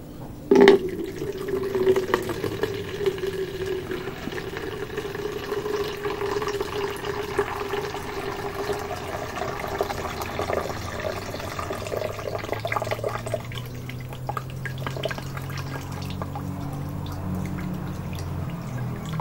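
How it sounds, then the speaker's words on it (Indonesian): Water being drained off, pouring and trickling steadily near the microphone before thinning into a quieter flow. "Nah, kita tiriskan dulu teman ya, kita tiriskan sini aja."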